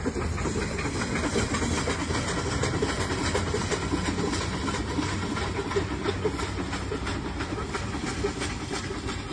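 Ooty toy train of the Nilgiri Mountain Railway moving along, a quiet, steady rumble with faint rhythmic clicks from the wheels, continuous and low in level throughout.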